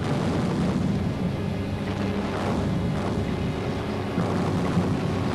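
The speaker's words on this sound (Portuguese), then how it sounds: "900 canhões começaram a agredir as linhas do eixo e o ataque começou." A continuous dense rumble of about 900 artillery guns firing in a barrage on Axis lines, booms blending into a loud, unbroken roar with no voices.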